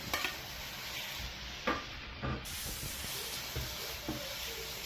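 Ginger garlic paste and prawns fry in a pan with a constant hissing sizzle, marked by a few short scraping stirs of a utensil; no one talks.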